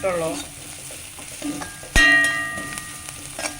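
Onions for aloo paratha fry in a pan with a soft, steady sizzle, broken by a sharp clatter of a utensil stirring against the pan midway and a few lighter scrapes.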